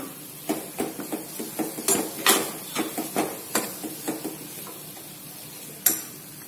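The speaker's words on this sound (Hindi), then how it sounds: "अब इसे अच्छी तरह से मिक्स कर लेना है।" A spoon scrapes and clinks against a pan while stirring a burfi mixture with dry fruits, producing a steady series of separate metallic taps and scrapes about twice a second, close and moderately loud, with no talking.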